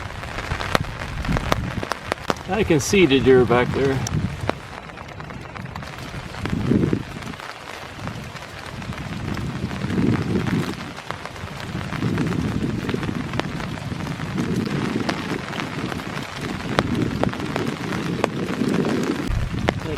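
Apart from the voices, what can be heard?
rain falling in a foggy park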